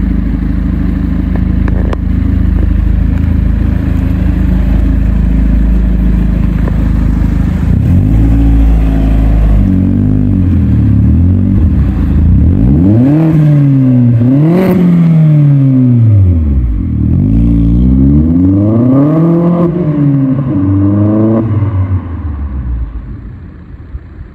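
A Vauxhall Astra VXR with a Stage 2 tune, around 320 bhp, pulls away with loud engine drone, then rises and falls through several strong revving sweeps as it accelerates and shifts, fading slightly at the end.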